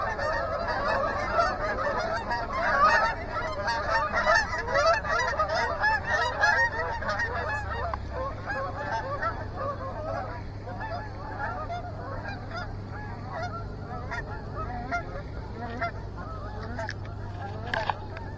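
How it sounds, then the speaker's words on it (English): Geese honk near a pond, a flock calling repeatedly in overlapping nasal honks at moderate distance, busiest in the first half and thinning out later, with faint low background hum. "Here come the geese."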